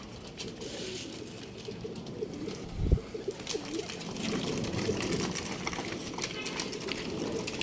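Domestic pigeons from a newly released flying group settle with soft coos and a brief flutter of wings, close by over steady outdoor background noise, with some faint voices.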